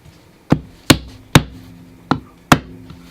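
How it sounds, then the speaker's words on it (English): Five sharp hammer taps on staples, flattening them into an RV wall beside the trim, each a crisp close strike with a short ring, irregularly spaced over about three seconds. "I'm gonna use a hammer to tap those staples in"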